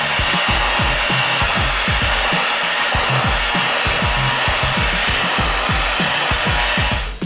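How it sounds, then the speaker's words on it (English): An electric hand mixer whirs steadily while beating a sugar mixture for a tres leches cake, a loud continuous drone with rhythmic scraping knocks against the bowl, stopping at the end. "We're going to take our mixer. We're going to go ahead and mix this until it's nice and firm"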